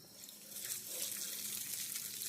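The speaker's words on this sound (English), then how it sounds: "Turn the water hose on." Water gushes from a garden hose outdoors on a Louisiana bayou as a steady, bright hiss and splash that stays fairly close and even throughout, with no voices.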